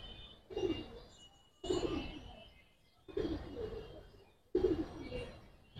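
Giribaz pigeons cooing close by, four separate throaty coo phrases spaced about a second apart, each swelling then fading, with no voices over them.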